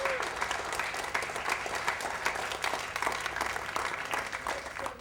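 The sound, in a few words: film crew applauding at wrap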